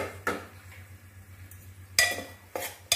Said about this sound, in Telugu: ఇవన్నీ మనం ఒకసారి తిప్పుకున్నాము.